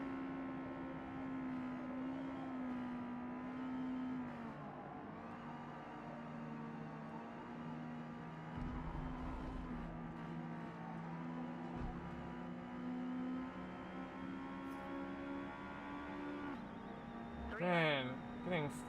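Car engines race in a video game, with an old Ferrari running ahead; a steady, droning engine hum shifts gradually in pitch, and a brief rising whine cuts in near the end.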